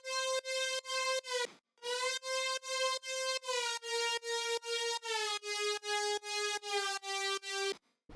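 A bright, buzzy Serum synth lead plays a melody of repeated notes that steps down the scale in even, punchy rhythm, loud and alone, with one brief gap partway through.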